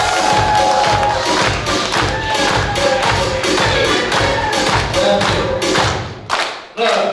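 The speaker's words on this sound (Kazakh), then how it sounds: "алтындай ұстаздарымызға қошемет беріңіздер" An audience at a 20-year class reunion claps loudly and continuously for their teachers, a dense rhythmic applause with some cheering that fills the room and then abruptly dies out near the end.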